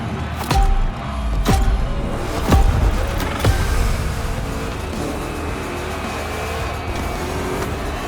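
Chevy 3100 big block racing in The Crew Motorfest, a continuous engine roar with several sharp impact-like knocks early on, then a steady drone.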